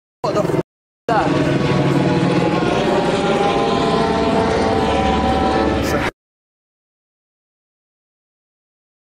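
A helicopter passes overhead, a loud steady rotor and engine roar lasting about five seconds after a brief burst, then cutting off abruptly.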